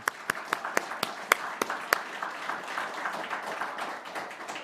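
A church congregation claps in encouragement, several sharp, spaced claps at first that blend into soft, scattered applause in a large room.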